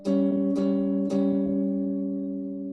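Two sustained tones a diminished fifth apart ring out together in a steady interval, with three soft attacks re-striking the chord before it slowly fades, no voices present.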